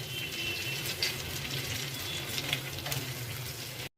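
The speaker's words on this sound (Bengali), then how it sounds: "আলুটা এদিকে আমার মিডিয়াম ফ্লেমে ভাজা হতে থাকুক" Potatoes frying in oil over a medium flame give a steady, low sizzle with a faint watery bubbling that runs evenly throughout, quiet and close, with a brief dropout near the end.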